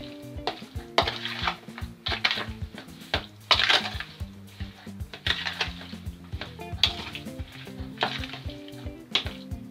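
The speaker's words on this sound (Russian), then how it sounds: "Также мы это все перемешаем." Turkey pieces with seasoning being stirred in a bowl for Chinese-style soy sauce turkey, a steady run of close, busy scraping and clinking with a bright sizzling-like texture, no talk.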